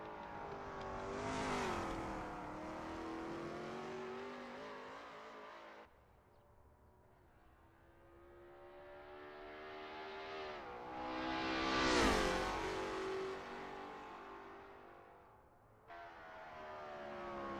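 A Lola T70 MkII Spyder race car laps Sebring in a racing game, its engine roaring loud and steady through repeated rising revs and gear changes, swelling to a peak as it passes, with no voices.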